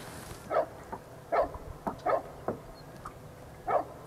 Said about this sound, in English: I guess Fido doesn't realize we're trying to make a YouTube video over here